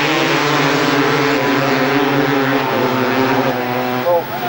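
A pack of 250cc grasstrack racing motorcycles in a heat, engines droning loud and steady together as they bunch into the first turn, with a commentator talking over them.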